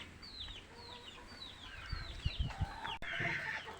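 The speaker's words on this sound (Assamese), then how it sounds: "এয়া চাওক মুৰ্গীবোৰ, এয়া আমাৰে মুৰ্গী" Several chickens cluck and squawk close by in a farmyard, with short high calls repeating throughout and a burst of louder clucking near the end.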